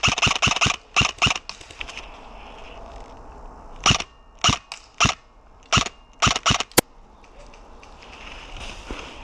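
Airsoft guns firing outdoors in snowy woods, a string of sharp snappy shots in quick bursts with gaps, some close and loud, others fainter, over quiet ambient background.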